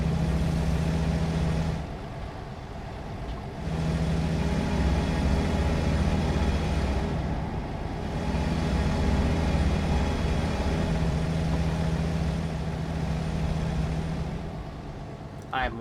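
American Truck Simulator truck engine with the cab window down, driving through a tunnel: a loud, steady low rumble and drone that briefly dips a couple of times, continuing throughout without talk.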